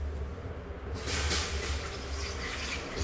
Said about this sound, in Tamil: இரண்டாவது ஒரு செம்பை ஊற்றுகிறோம்.